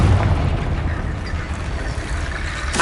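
A Confringo explosive spell bursts in Hogwarts Legacy, a loud rumbling blast that rolls on as a dense boom and crackle, heard alone without talk.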